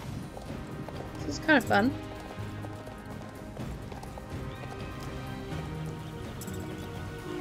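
Horse hooves galloping in a race in the Star Stable video game, a brief rapid burst of clip-clop near the start over steady game music, with a person talking along with the play.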